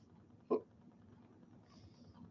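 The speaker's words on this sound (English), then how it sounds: "I do have the hiccups" A single sharp hiccup from a person, close and brief, then quiet room tone.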